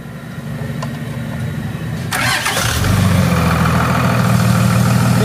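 A car engine cranks and catches during a stuck wheel hub repair, then settles into a loud, steady idle close by, with no voices.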